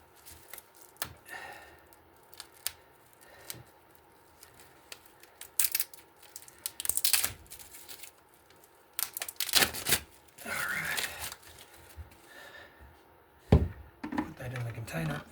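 Plastic wrapping being torn and crinkled open around a new filter for a home dialysis machine, heard as irregular sharp rustling bursts, loud and close, with short quiet gaps between handling.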